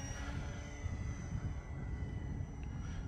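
An E-flite Beechcraft D18 RC twin-engine model plane flying a pass over a grass field, its steady engine drone and whine holding at a constant level throughout, moderately distant and alone without voices.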